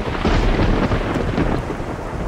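A thunderstorm with heavy rain in the video game Red Dead Redemption on Xbox 360 fills the scene with a loud, continuous rumble of thunder over dense rainfall.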